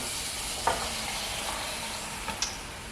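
Steady sizzling of onions frying in a pan for jambalaya, a constant hiss with a couple of faint clicks from stirring.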